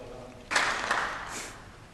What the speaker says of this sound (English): And so let's applaud.